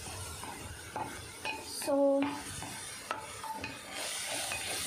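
A spoon scrapes and clinks around a pan as pizza sauce paste is stirred over very low heat, giving soft scraping strokes, a short metallic ring and faint sizzling, with a single brief spoken word.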